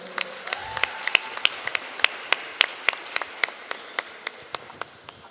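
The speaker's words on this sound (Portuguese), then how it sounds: "Palmas para Breno, por favor." Audience applauding at a public talk on resistance to the military dictatorship, a sparse crowd with sharp individual claps standing out clearly, tapering slightly toward the end.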